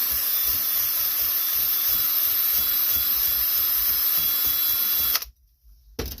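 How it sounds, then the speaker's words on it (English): A power wire wheel scrubs rusted grease zerks on a Cub Cadet Super LT 1550 riding mower spindle, giving a loud, steady, close-up high-pitched grinding whir that stops abruptly near the end and briefly restarts. "So I'm going to try to wire wheel those grease zerks to see if I can get them to take grease."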